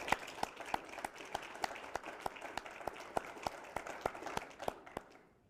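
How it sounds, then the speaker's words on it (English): Sparse audience applause at a River Bank Run event for the Amway team, a modest number of distinct hand claps at an uneven pace, fairly faint and fading out by the end. "Can we please give the Amway team a big round of applause?"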